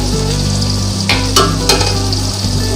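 Whole spices – black pepper, black cardamom, cinnamon and bay leaves – sizzle in hot oil for beef biryani, a steady loud hiss with a few sharper crackles and a brief stir; no one speaks.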